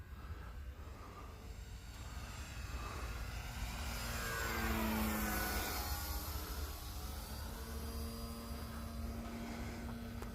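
A Timber X RC plane with a large propeller flies overhead at full throttle, a steady buzzing drone that swells as it passes nearer and shifts pitch slightly, with no voices.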